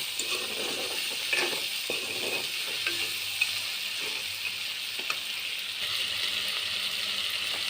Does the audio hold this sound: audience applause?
no